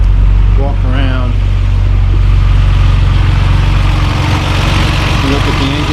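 A 1969 MGC GT six-cylinder engine idles smoothly and steadily on a lift, a loud, even low rumble, with a brief voice and faint whine near the start.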